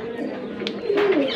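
Sirazi pigeons coo softly nearby in a short burst, with faint background murmur.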